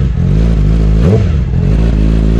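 Loud, close motorcycle engine with a carbon fiber exhaust idling with a deep throaty sound, a brief rev swelling in the middle before settling back to a steady burble.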